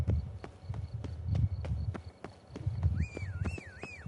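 Roach the horse trots in The Witcher 3 Blood and Wine expansion, steady rhythmic hoof clip-clops close by, with a whistling, warbling tone joining near the end.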